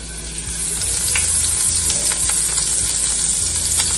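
Butter sizzling and frying in a hot pan while Jamaican brown stew fish is cooked, a steady loud hiss with scattered crackles and a few low clinks throughout.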